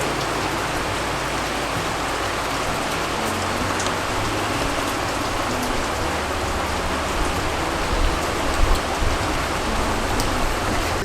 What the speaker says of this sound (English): now the rain is really coming down